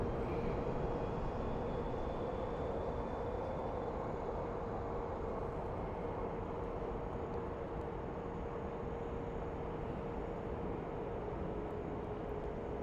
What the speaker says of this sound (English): So it's an American Airlines A321 headed to San Diego.